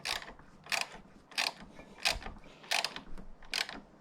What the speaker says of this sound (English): so go ahead and just tighten them down a little bit more